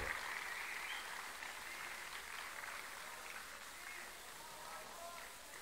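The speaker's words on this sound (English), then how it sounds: "Big round of applause for him." Convention audience in Baltimore applauding a guest speaker at an Islamic gathering, a dense continuous roar of clapping from a large crowd, fairly distant and even, with faint voices mixed in.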